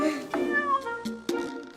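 A cat meows several times up close, short tonal mews rising and falling in quick succession, loud and clear.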